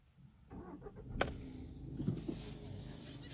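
A 2016 Skoda Octavia A7 with a 1.6 diesel engine cranks and starts, a brief starter whir and sharp catch followed by a low, steady idle rumble, close and moderately loud.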